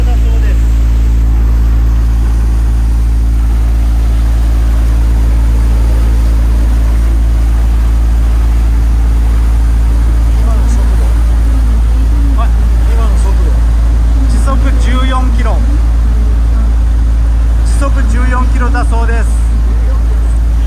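A sightseeing boat's engine heard close to its muffler: a loud, deep, unbroken rumbling drone that holds steady for about twenty seconds, with people talking and exclaiming nearby over it in the later part.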